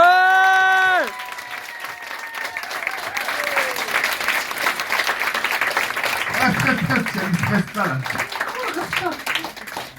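Audience applause and cheering at a comedy show, a dense, loud wash of clapping from a crowd that swells and holds for several seconds, with a voice talking briefly at the start.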